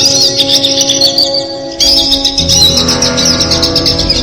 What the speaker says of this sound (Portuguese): aquele pintacilgo cantando naquela árvore?